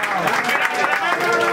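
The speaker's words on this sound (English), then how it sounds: "applause." Audience applause at a vogue ball, a dense steady wash of clapping with crowd noise and some voices mixed in, loud and continuous throughout.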